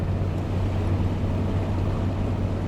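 Jaguar E-Type from the 1960s with a standard-specification stainless steel exhaust, driving with a smooth, steady low engine hum and road rumble, quiet and continuous, with no talk.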